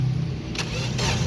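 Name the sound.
car engine cranking with the starter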